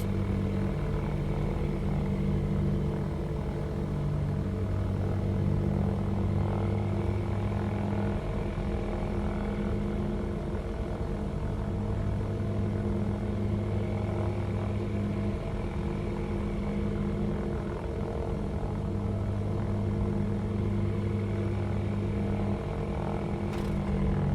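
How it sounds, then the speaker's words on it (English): A Shark UL propeller plane engine in the X-Plane 12 flight simulator drones steadily and loudly throughout, a constant buzzing hum with only slight shifts in pitch. "The sounds are truly exceptional on this aircraft."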